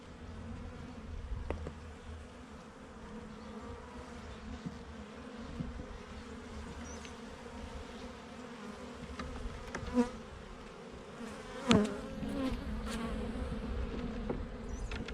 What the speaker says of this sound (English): Quite a few bees in here.